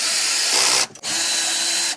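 A brushed Ryobi cordless drill on clutch setting 4 drives a screw through metal into plastic panels while a shed is assembled, a loud close whir with a brief stop before it spins up again.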